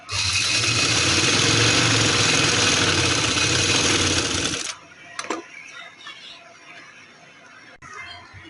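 A sewing machine stitches a baby girl's jhabla frock with a loud, continuous, close whirring run for several seconds, then stops abruptly, leaving faint handling clicks.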